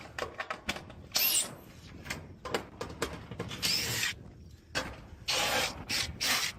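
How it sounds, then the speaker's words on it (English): Power drill removing screws from a roof during shingle work in a valley, heard as short close whirring bursts mixed with scraping and rubbing. "So, start taking out screws."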